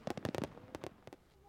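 Fireworks bursting at a summer fireworks festival in Takahama on a summer night, heard as a quick series of sharp booming pops that cluster at first and then thin into a few scattered cracks. The bursts sound fairly distant and moderately loud.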